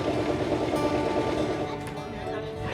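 A tourist train runs on rails through Tasmanian rainforest, giving a steady rumbling roll with rhythmic clatter heard from inside a carriage, fairly close and continuous, with a faint murmur of voices in the background.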